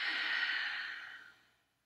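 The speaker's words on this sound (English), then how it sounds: "Let's take three big breaths here." A single deep breath during a vinyasa yoga flow, a close, airy exhale that holds steady and then fades out over about a second.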